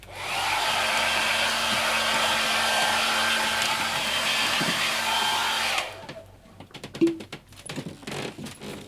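A hairdresser's hair dryer blows with a steady, loud, broadband roar for about six seconds, then cuts off, leaving quiet clatter, a thump and faint handling noises.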